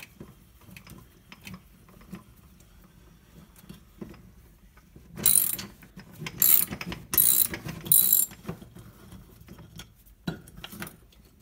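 Metal-on-metal ratcheting and gear-like clicking as a larger-gauge coach screw is driven into a seized, corroded D-cell battery stuck inside a Maglite flashlight; faint low handling noise, then four loud close bursts of ratchet clicks in quick succession.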